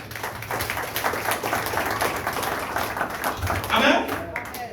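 A church congregation claps together, with steady, dense applause swelling and fading.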